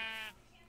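A single short sheep bleat from the video game Minecraft, a wavering nasal cry lasting about a third of a second, clear and close, then fading into quiet background.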